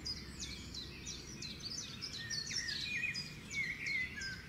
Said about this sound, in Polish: Dobra, ptaszki śpiewają.